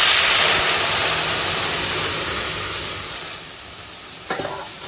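Mashed dal hits hot oil with green chilli, chopped onion and turmeric, bursting into a loud sizzle that gradually dies down, followed by a brief utensil clank near the end.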